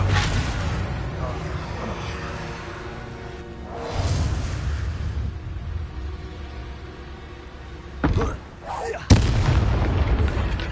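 Booming blasts from the Confringo fire spell in the Hogwarts Legacy video game, a sustained rumbling barrage with a sharp burst near the end, mixed with game voices speaking.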